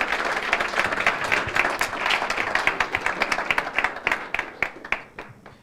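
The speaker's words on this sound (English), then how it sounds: "Big round of applause, please." Audience applause after a session at a summit conference, a dense wash of many hands clapping that stays steady and then thins into scattered separate claps near the end.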